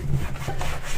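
Rough rubbing strokes work dried paint off wooden furniture, a brief scratchy scraping of a few quick passes, close and fairly quiet.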